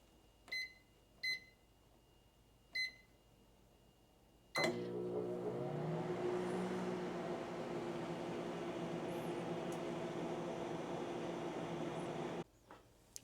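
Three short electronic beeps, then a microwave oven starts with a thud and hums steadily for several seconds before clicking off.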